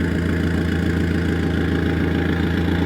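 A car engine with an aftermarket exhaust idles steadily with a deep, throaty burble, a low rhythmic pulsing close by with no talking.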